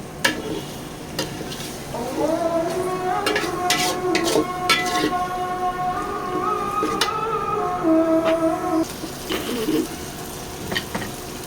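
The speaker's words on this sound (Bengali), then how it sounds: "এখন আমি ভেজে নিচ্ছি, মানে কষিয়ে নিচ্ছি পেঁয়াজ মশলার সাথে।" Onion, ginger-garlic paste and spices fried and stirred in a pan for bhuna khichuri and chicken curry, a steady close sizzle with scraping stirs and light clinks of utensil on metal, with tonal background music running throughout; no one speaks.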